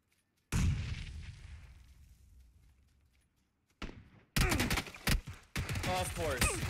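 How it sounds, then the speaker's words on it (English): A single loud SKS rifle shot booms in a video game and rings out in a long decay, followed later by more sharp reports mixed with someone talking. "Somebody was just shooting at me with an SKS"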